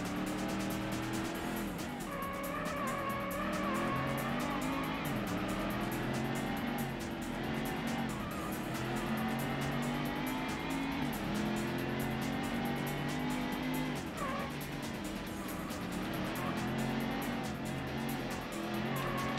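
Ford Mustang race cars from the Ford Racing video game, a pack of engines roaring close behind with whining revs, shifting pitch and tyre squeal, a continuous dense racing din with no speech.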